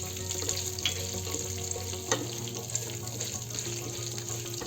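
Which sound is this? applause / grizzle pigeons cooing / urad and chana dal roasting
urad and chana dal roasting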